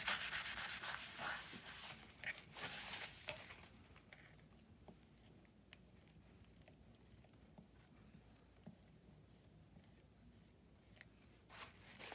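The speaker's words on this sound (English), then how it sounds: "I'm going to swipe one direction and then swipe the other." A brush swipes across a card, spreading a thin coat of finish and picking up the excess. A loud, dense run of scratchy strokes gives way to fainter intermittent brushing, and no one speaks.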